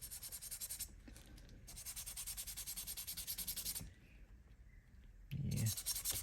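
A Scotch-Brite pad rubs the metal body of a VW to bring out patina, giving long steady scouring strokes in a few bursts, close and fairly quiet, with a brief lower thump near the end.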